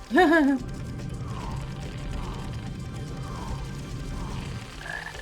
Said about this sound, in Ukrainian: я надеюсь, что це звичайна жаба